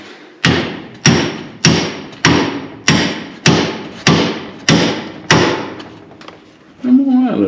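Nine sharp metallic hammer blows land on a dirt-track race car's front end parts, evenly spaced and loud, each ringing briefly before the next, followed by a short voice at the end.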